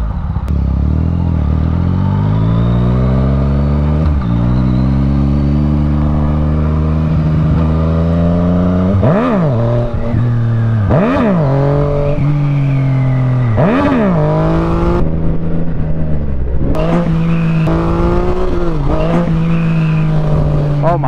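A Yamaha FZ-09 motorcycle out on the road, its engine droning loud and near and then revving hard in several sharp rising bursts with gear changes, and a voice speaks briefly over it.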